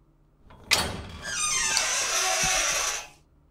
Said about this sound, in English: Creepy door noise.